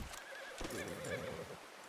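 A horse in Red Dead Redemption 2 whinnies in a short, bright, wavering neigh close up, with faint hoof clip-clop underneath and no talking.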